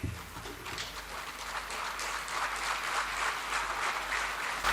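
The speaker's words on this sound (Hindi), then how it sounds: "ताली नहीं बजाएंगे इस पे?" An audience claps steadily throughout, dense sustained applause in response to a speech by Pushpendra, with no talking on top.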